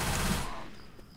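Uzi submachine gun fire in the video game Left 4 Dead 2, a short dense burst of rapid automatic shots that cuts off quickly and leaves faint game ambience behind.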